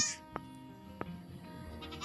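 A goat gives two short, quiet bleats about half a second apart against a faint, calm farmyard background, with no one speaking.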